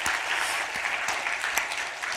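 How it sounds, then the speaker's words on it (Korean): Church congregation applauding together at the close of an evangelistic gathering during a Sunday service, a steady, dense wash of clapping that carries through the whole moment without any talk over it. "마지막도 박수 한번 치죠?"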